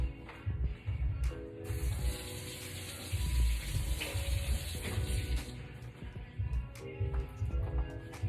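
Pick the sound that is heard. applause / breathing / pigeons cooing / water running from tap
water running from tap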